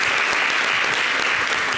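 A studio audience at a French-language TV talk show breaks into a short, dense burst of clapping that stays full and steady throughout.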